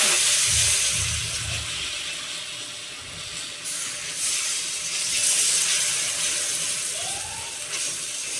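Batter sizzling in hot oil in a home kitchen, a steady bright hiss and crackle that holds throughout at close range, with no talking over it.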